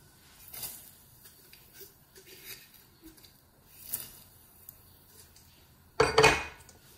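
Quiet kitchen handling noises with light clinks and taps while cooking albacore tuna, ending in a sharp, loud metallic clatter of a pot of salted water being set down nearby.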